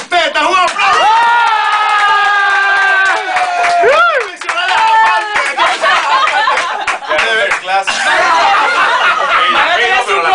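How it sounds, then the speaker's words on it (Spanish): A loud crowd cheers and applauds at a live show as a performing group arrives, with raised voices shouting and whooping over scattered clapping throughout. "¡Un aplauso!"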